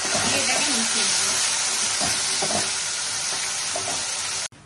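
Spices with turmeric and salt sizzling in hot oil in a pan, a steady close frying hiss broken by soft scraping stirs, ending abruptly.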